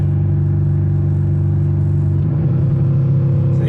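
A car with an AOD automatic transmission holds a steady low engine rumble, then the tone shifts partway through as it downshifts into second gear, loud and close with no voices.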